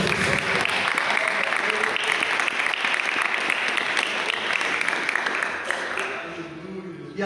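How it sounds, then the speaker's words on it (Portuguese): A church congregation claps during a sermon, a thick, steady roar of many hands that keeps going for the whole stretch at an even level and tapers slightly near the end. "Pode aplaudir Jesus."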